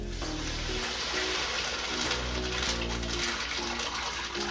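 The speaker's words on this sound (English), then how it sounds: "now what we're going to do is we're going to add our water." Water poured into a soup pot already holding onion and ginger for chicken pho, a steady broadband gush running continuously and fairly loud throughout.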